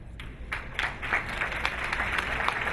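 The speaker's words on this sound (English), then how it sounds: "please do give a big hand of applause" An audience at a welcome event gives a round of applause, moderate and a little distant, with individual claps showing at first before settling into an even patter.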